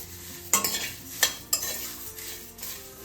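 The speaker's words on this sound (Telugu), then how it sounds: "ఈ మరమరాలని ఒక 2 మినిట్స్ లైట్గా ఫ్రై చేసుకుందాం." Puffed rice being lightly dry-fried in a pan, with three sharp scraping and clattering stirs over a soft, faint sizzle and no talk.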